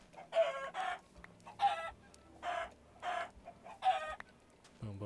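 Minecraft chickens cluck in short repeated bursts, about five evenly spaced calls, clear and close against a quiet background with no talk.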